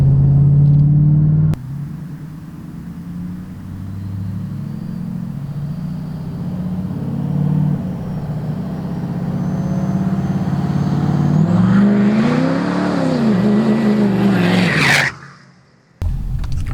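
A Ford F250 pickup with a 6.7 Powerstroke diesel and a new built turbo rumbles loudly nearby, building into a rising engine roar with turbo whine before cutting off abruptly.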